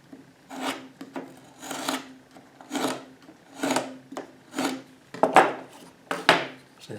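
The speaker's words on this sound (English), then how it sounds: "we're actually not cutting on the face over here, we're cutting on the back of the sheetrock" A blade scores the paper back of a drywall sheet in eight rhythmic rasping strokes, each about half a second long with short pauses between, close and clear.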